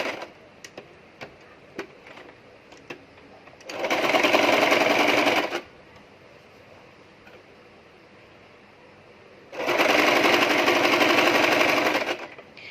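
A sewing machine stitches the sleeve of a princess-cut nighty in two loud, steady bursts of rapid needle clatter, each a few seconds long, with faint handling ticks in the quieter stretches between.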